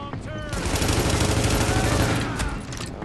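Sniper and rifle fire in the shooter game The Division, heard as a dense, loud volley of cracking shots over a short stretch amid game noise.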